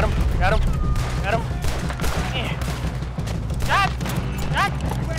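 Gunshots in Red Dead Redemption 2, a scattered volley of shots and booms under constant game ambience and occasional voice sounds.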